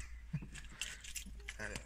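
Car keys jangle and clink in short bursts at close range inside a car, with someone talking over them.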